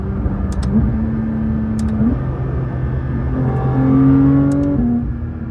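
A Porsche 992 GT3 RS engine heard from inside while driving, a steady loud drone whose pitch holds, then rises and steps through gear changes, with faint intake noise and a few brief high clicks from the paddles.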